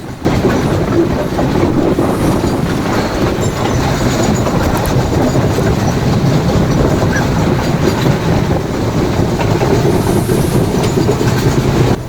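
Passenger train riding along a two-track line near Colombo, Sri Lanka, heard from beside the open door: loud continuous rumble with rhythmic clickety-clack of wheels and faint squeals, no talking.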